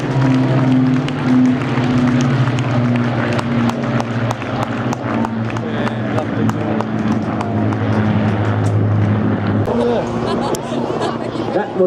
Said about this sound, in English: That was an Autogyro